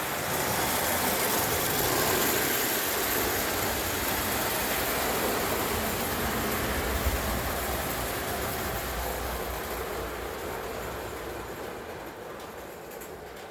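A clockwork European toy train runs around its track, giving a continuous soft rattling whir of small wheels and mechanism that holds steady, then slowly fades as it moves away.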